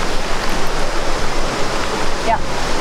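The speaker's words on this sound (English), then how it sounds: "Found the creek. You want to peek at the creek?" A creek flows through a forest in a Washington State national forest, producing a loud, close, continuous rush and babble of water with no break.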